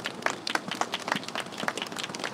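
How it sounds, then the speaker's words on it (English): Crowd applause at an outdoor Trans Day of Remembrance gathering in St. Louis, a steady patter of many hands clapping at moderate distance, fairly quiet and continuous with no talk over it. "let's give these wonderful people a round of applause"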